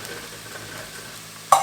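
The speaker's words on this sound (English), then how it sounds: "I got my last batch frying, which is just about done." Orange chicken frying in a pan gives a faint, steady sizzle, ending with a brief louder clatter as it is stirred.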